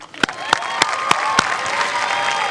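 Graduation ceremony audience at The Kinkaid School applauding a student speaker, opening with a few sharp separate claps that quickly swell into continuous loud applause with a bright crowd murmur.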